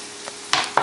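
Leeks sizzle in a frying pan as they are stirred, with a brief quiet hiss followed by two louder bursts of crackling frying.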